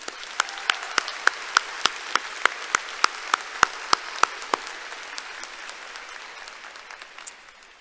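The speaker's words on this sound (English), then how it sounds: "Let's give him a round of applause." Measured clapping from a university commencement audience honoring a retired professor, starting as a few distinct, evenly spaced claps, then thinning out into softer scattered applause in a large hall.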